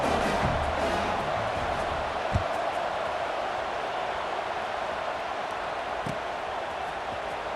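Steady crowd murmur fills a stadium crowd scene from EA Sports College Football 26, a dense even roar held loud throughout with only a couple of faint thumps and no clear speech.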